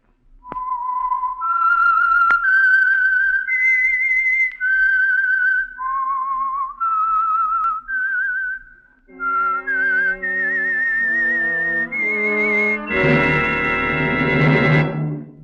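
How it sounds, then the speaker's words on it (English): A whistled melody serving as the signature tune of the Signal Oil radio program The Whistler: a clear solo whistle of sustained, wavering notes, then joined by orchestral accompaniment that swells to a full, loud ending. "the signal to listen for is this whistle that identifies the Signal Oil program, The Whistler"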